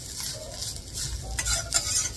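A spatula scrapes and turns coconut roasting in a hot iron kadhai, with uneven stirring strokes and faint sizzling up close, louder scrapes near the end, and no talking.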